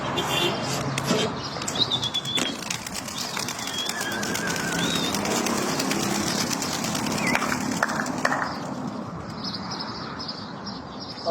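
Racing pigeons at a loft in Najaf, Iraq, chirp and call at close range with scattered wing flutters, over a steady background hum and some talk.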